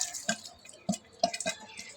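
Water being poured on garden plants falls in irregular drips and small splashes, four or five distinct plops against a quiet background with no talking.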